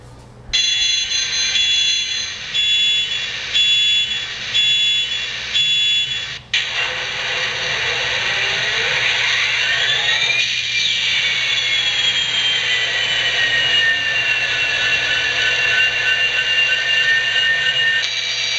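A Digitrax SFX004 Soundbug sound decoder in a model train plays a run of evenly spaced electronic beeps, then its simulated diesel engine starts and surges abruptly to a loud, high, steady full-throttle whine.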